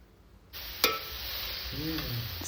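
Grated carrots go into hot ghee in a pan for halwa and start sautéing at once with a bright, steady sizzle, broken by a sharp clink and the scrape of stirring.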